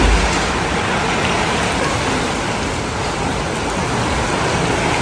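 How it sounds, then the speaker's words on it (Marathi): Heavy monsoon rain pours down outside a veranda, a close, constant hiss of rainfall hitting surfaces with no breaks and no voices. "आणि वरंदामधून असा पाऊस बघण्याची मजाच वेगळी आहे, भारी वाटतंय बघा."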